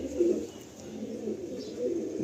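Pigeons coo softly in a loft of old-stock birds, low rolling calls rising twice over a steady murmur of the flock.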